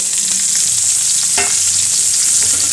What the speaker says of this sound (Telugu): ఇప్పుడు మనము ఈ సొరకాయ చెక్కుని దీంట్లో వేసేసుకోవాలి.